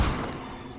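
Bombarda blasting spell explosion in the video game Hogwarts Legacy, a single heavy boom at the start with a broad rumbling decay that fades over the following second.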